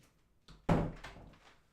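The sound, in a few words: door opening and closing to let a dog out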